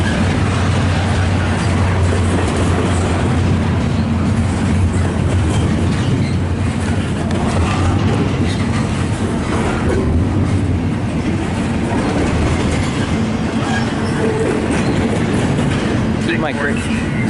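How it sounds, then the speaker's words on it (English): A train rolls past on railway tracks near the RTC in Alberta, by a raised jackknife bridge, a steady rumble of rail cars with faint clickety-clack running throughout, while people talk over it. "the train's passing us right now"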